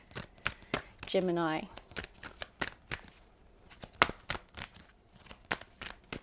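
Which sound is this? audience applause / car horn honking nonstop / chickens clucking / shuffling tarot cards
shuffling tarot cards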